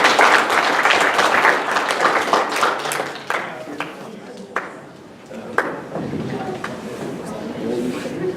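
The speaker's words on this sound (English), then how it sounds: "let's give a round of applause for our guests today" A crowd applauds with steady clapping that gradually thins out, a few scattered claps lingering near the end.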